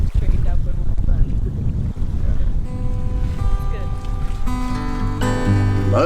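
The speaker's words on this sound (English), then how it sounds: "we gotta learn how to deal with this wind, even if it's not the best" Strong wind roars and buffets a sailboat underway in about 25 knots of wind, loud and continuous, with sustained musical tones rising in the second half.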